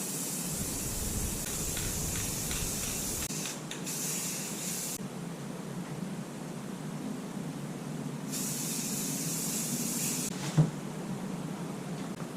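A spray can lays a flat black paint coat in long, steady hissing bursts that start and stop, with a brief knock near the end.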